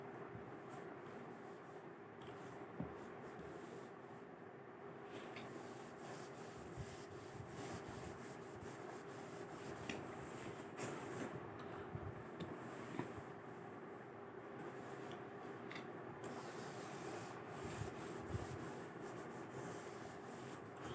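Steady dry rubbing of a duster wiping writing off a board, a continuous scratchy swish that runs for about twenty seconds with small surges in pressure and no talk over it.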